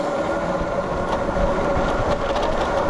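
An Ausom DT2 Pro electric scooter runs at full throttle, its 1500-watt motor giving a steady whine over constant wind and road rush, close and continuous.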